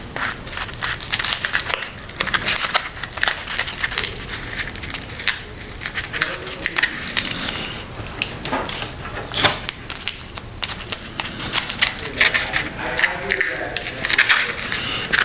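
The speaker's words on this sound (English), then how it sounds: "Just going to go ahead and take my tape here." Tape is pulled off and pressed onto foam board while building an FT Mini Zero model plane, giving close, uneven crackling and ripping bursts that continue steadily over faint background noise.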